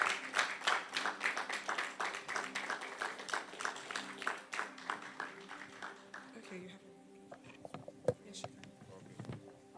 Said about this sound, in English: Please, a round of applause for Seun Ogulano.